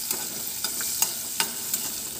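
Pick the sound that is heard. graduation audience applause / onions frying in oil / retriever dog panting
onions frying in oil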